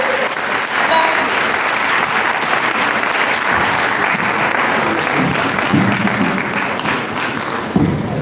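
An audience at a retirement ceremony applauds, a loud, dense, continuous clapping that stays even throughout.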